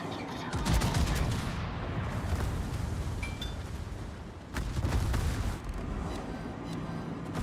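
Warship guns in a naval game boom in heavy, overlapping volleys, loud rumbling blasts recurring amid constant battle din and engine hum.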